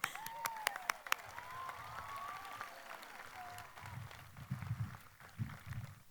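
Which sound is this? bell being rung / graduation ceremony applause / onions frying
graduation ceremony applause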